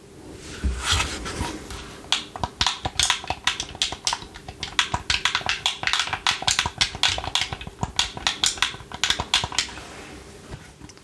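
Keys clack on a wireless keyboard accessory for an Xbox One console in quick, irregular bursts of close, crisp taps that run almost continuously, then thin out near the end.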